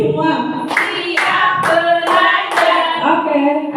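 A group in a school setting claps in a counted clapping game, sharp loud bursts of hand claps in a quickening rhythm, about five distinct clusters, with voices chanting along underneath.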